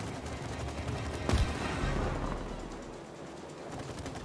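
Gunfire in the video game It Takes Two, heard as a dense, steady rattle of rapid shots with one heavier burst partway through, running continuously without talk.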